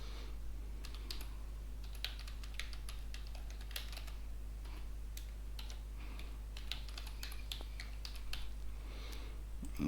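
Steady computer-keyboard typing as an email address is entered, a continuous stream of close, crisp key clicks over a low constant hum, with no talking.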